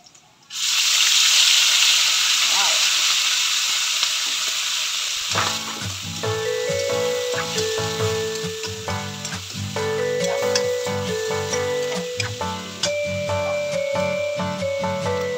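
Beef tripe sizzles and fries in a pan with a loud, steady hiss that starts abruptly and carries through, joined after a few seconds by a humming tonal background, with no talk.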